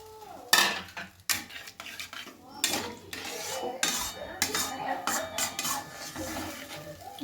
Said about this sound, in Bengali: এটাও এইবার একটু নাড়াচাড়া করতে হবে খুন্তিতে